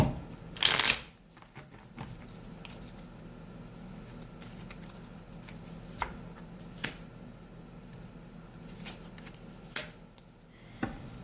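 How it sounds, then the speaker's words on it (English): Tarot cards being shuffled during a money and career reading: a loud burst of riffling near the start, then quieter slides and taps of the deck at scattered moments, close and without talk. "When I was shuffling your cards"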